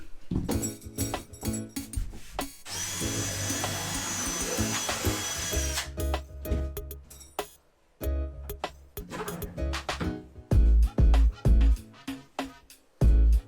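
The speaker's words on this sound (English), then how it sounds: "I'm going to drill the 4 holes off of that" Power drill boring holes into a cabin floor through a template for a water tank frame, heard as several drilling bursts, one sustained whirring run, then short clustered pulses with thumps between, fairly close.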